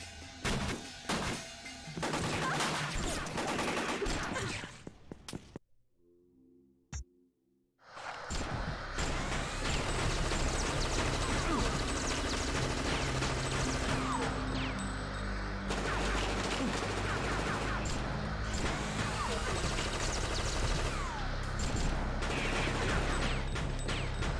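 Sustained automatic gunfire in the PS1 action game Fear Effect, loud bursts before a short silent pause and then a long, continuous barrage of shots mixed with game sound effects.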